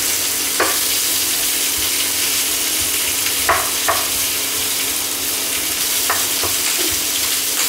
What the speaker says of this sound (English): Onions, and I also dump in my crispy pork belly, the leftovers.